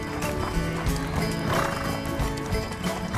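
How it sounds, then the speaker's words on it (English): Horses with riders on a ranch trail pick up the pace, their hooves clip-clopping in a steady, busy rhythm close by, with a neigh rising over the continuous movement. "Our horses pick up the pace,"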